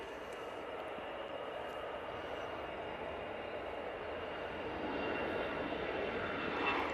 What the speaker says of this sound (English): EasyJet on the roll off to the Isle of Man